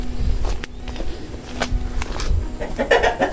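About six hens on a small Brazilian country farm give scattered, intermittent clucks up close amid outdoor knocks and rustling.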